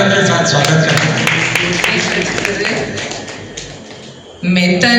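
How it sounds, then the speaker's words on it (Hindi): Applause at a poetry gathering greets a poet's self-written ghazal: a dense burst of clapping that fades over several seconds, followed by a voice speaking. "आपकी स्वरचित गजल है, जोरदार तालियों के साथ स्वागत करते हैं।"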